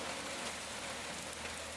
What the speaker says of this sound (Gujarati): આવી ગયો વરસાદ, ચાલુ થઈ ગયો.